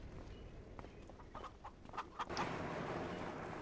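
Farmyard chickens cluck in a loose, irregular string of short calls, fairly close, against steady background noise with no talking.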